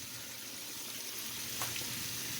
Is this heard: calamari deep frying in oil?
yes